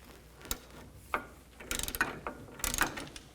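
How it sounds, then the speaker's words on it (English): An 18mm socket ratchet tightens the sway bar link nut on a 2008-2014 Cadillac CTS, making close, crisp clicking bursts: single clicks early, then rapid rattling runs of ratchet pawl ticks, with no talk. "use an 18mm socket to tighten up the nut"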